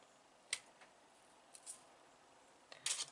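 Memory wire for beaded bangles being cut with a tool, a few faint, sharp snips and clicks spaced apart in a quiet room, the last one slightly louder and more drawn out.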